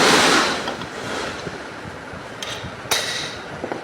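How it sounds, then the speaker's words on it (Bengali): A hammer strikes a lock to knock it loose from a housing during a bearing repair, with a couple of sharp metallic knocks standing out over a noisy, rushing background and no talk. "এটা বাড়ি দিয়ে খুলে ফেললাম।"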